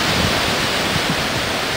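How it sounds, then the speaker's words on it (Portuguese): Calm sea waves wash gently against a rocky shore with natural tide pools in Bahia, a steady, close, even hiss of surf with soft low swells, continuous and without talk. "Hoje tá calminho o mar."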